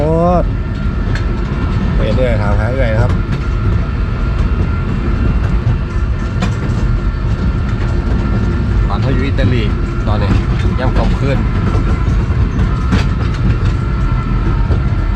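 A toy farm train rumbles along with a steady clickety-clack of wheels on rails, loud and continuous, while people talk over it.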